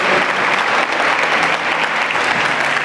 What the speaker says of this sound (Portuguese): Dá mais um aplauso a Jesus aí